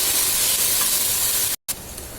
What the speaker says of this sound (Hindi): अदरक लहसुन डालिए और 2-3 सेकेंड फ्राई कीजिए